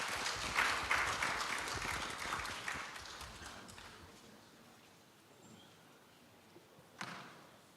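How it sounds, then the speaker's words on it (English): Applause from attendees at an international climate resilience and rural transformation conference, a burst of clapping that thins out and fades over several seconds, followed by near quiet and a single thump. "A round of applause for him"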